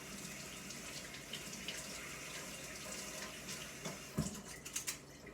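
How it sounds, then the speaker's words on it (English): A scoop rinsed under a running tap, with a steady, fairly quiet water stream throughout and a few louder splashes and clinks near the end as the scoop moves through the flow. "I am going to use this scoop again, so I need to rinse it off."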